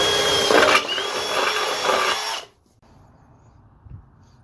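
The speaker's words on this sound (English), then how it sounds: "Drill a hole." A power drill whines loudly up close for about two and a half seconds while boring through metal, then cuts off abruptly, leaving near silence.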